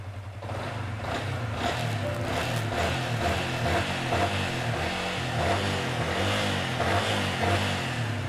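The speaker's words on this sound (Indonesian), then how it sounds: "Untuk kelistrikan dan mesin kita nyalain." Used Yamaha Vixion motorcycle with about 68,000 km on it starts after a brief pause, then settles into a steady, smooth, close mid-pitched running engine with a pulsing idle and occasional light revs.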